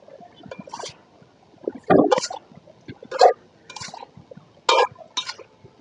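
Washed potatoes, eggplant and greens being added to spice paste in a pan, a series of wet clunks, thuds and soft scraping bursts spaced about a second apart, close by with quiet moments between.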